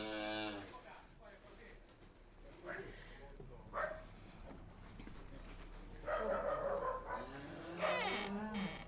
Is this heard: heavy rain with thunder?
no